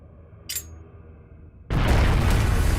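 A bomb blast in the video game Trails of Cold Steel hits suddenly after a quiet stretch and a brief swish, then a loud, sustained roaring explosion rumbles on to the end.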